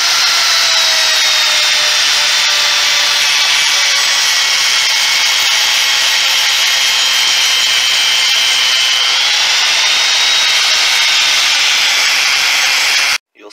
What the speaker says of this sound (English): Switched over to this grinding stone here. It's not as aggressive as the cutting bit, but this will take metal out and it'll smooth everything out too.